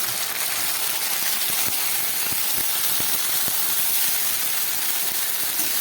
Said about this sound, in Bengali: এবার এই বেটে রাখা মশলাটা আমি এর মধ্যে দিয়ে দিচ্ছি